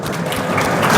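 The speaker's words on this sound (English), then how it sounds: "I think a big round of applause for all of you" Applause for teachers at a school presentation, a short burst of dense clapping from a group that grows slightly louder over one second.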